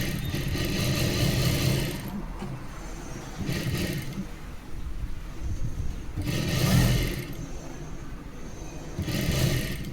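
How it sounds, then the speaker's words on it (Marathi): A sewing machine stitches around the edges of a simple princess-cut saree blouse, giving a steady close mechanical whir that swells in periodic surges, with no voices. "चारी बाजूने याला अशी शिलाई टाकून घ्यायची"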